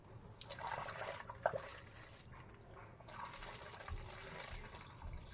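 Cleaning chemical pours through a funnel into a spray bottle, a soft steady trickle of liquid running down with slight swells, quiet and alone.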